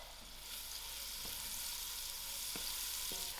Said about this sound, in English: I will allow this to fry till soft.